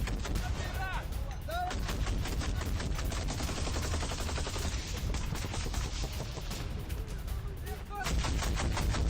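Intense combat gunfire from the war in Bakhmut, Ukraine: dense, continuous volleys of rifle and machine-gun shots with heavy booming blasts, loud throughout with no pause.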